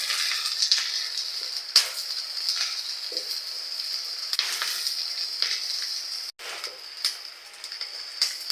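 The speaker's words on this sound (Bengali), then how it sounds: "সমস্ত মশলাগুলো আমি ভালো করে নেড়ে চেড়ে ভেজে নেব।" Onion, garlic and green chillies fry in a pan for a dried laitta fish bharta, giving a steady soft sizzle with occasional scraping and stirring knocks as the spices are turned, no voices present.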